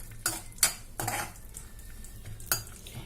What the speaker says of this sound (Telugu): సన్నగా కట్ చేసుకున్న జీడిపప్పు బాదం కిస్మిస్ వేసుకొని దూరగా వేయించుకోవాలి